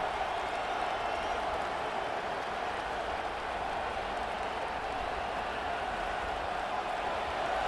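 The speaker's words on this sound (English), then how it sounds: "This crowd bringing the energy and noise early." A steady, dense roar of stadium crowd noise fills a college football game in EA Sports College Football 26, a Michigan versus Oregon matchup, with a commentator's voice heard over it.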